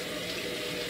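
Tap water runs steadily over potatoes being rinsed in a kitchen sink, a brief, even splashing rush up close.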